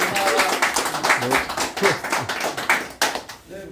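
Applause from a gathering at a Korean clan association's founding general meeting, a steady dense patter of many hands clapping at close range for the full stretch.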